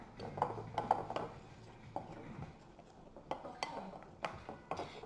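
Powdered sugar being stirred into a thick buckeye candy mixture in a bowl, with irregular clinks and knocks of a utensil against the dish and soft scraping between them, fairly quiet and close.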